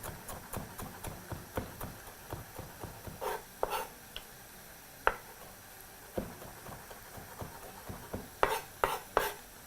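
A knife chops coriander on a board for a tikka sauce, making steady, close, quick taps that run continuously with a few louder knocks.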